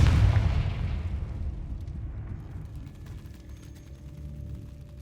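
A Confringo fire spell explodes in Hogwarts Legacy, opening with a loud, deep boom that fades into a long rumbling tail, followed by quieter crackling debris and faint scattered clicks.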